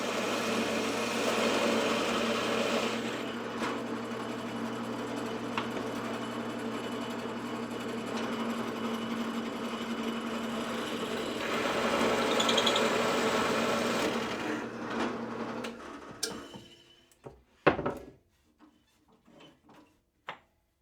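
A drill bores a 3/4 inch counterbore about 3/8 inch deep into a wooden star knob, a steady mechanical whine with cutting noise that runs for about fifteen seconds, then stops, followed by a few scattered clicks and knocks.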